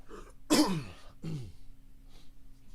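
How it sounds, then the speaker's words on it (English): A couple of short, harsh throat-clearing coughs close up, the first louder, then a quieter one, with a faint steady hum in the background. "I don't know why I can't stop coughing today."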